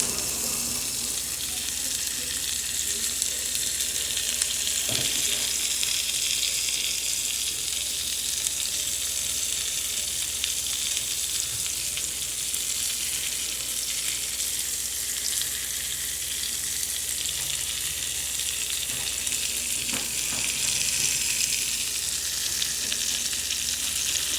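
Steady, loud sizzling of lamb frying in a pan with melted butter, a continuous hiss with occasional faint clinks, and no talk.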